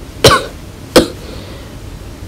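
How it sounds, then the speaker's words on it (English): A woman coughs in a Roblox BrookHaven roleplay scene at playground swings, two sharp separate coughs about a second apart, with the start of a third at the very end. "Mommy cough?"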